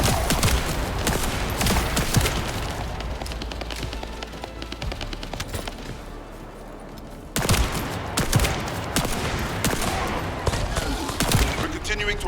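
Gunfire from a backup weapon in the video game The First Descendant comes in dense bursts of rapid shots, loud and close. A brief quieter lull falls in the middle before the shooting resumes, with game voices faintly mixed in.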